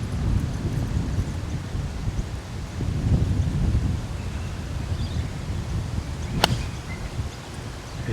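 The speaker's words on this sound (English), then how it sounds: "That wind now feels like it's more into it." Wind gusting across an outdoor golf course, a steady low rumble and buffeting over the microphone that swells and eases throughout, with one faint sharp tick near the end.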